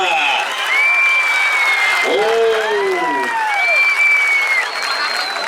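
A crowd claps in a dense burst of applause at a wrestling match while a loud voice calls out over it.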